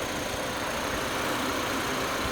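A 2006 Audi A4 S-Line convertible with the 1.8T engine idles close up, giving a steady, even mechanical hum with no break; any valve train ticking sits inside the engine noise.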